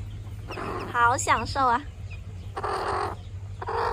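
A mother hen makes short, clipped clucking calls while taking a sand bath beside ducklings, close and fairly loud, followed by rustling bursts of scratched sand, with a voice speaking briefly.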